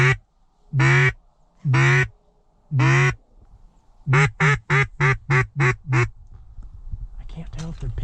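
Ducks quacking loudly and close during a duck hunt, first a few spaced calls, then a rapid run of six quacks, followed by rustling and faint talk.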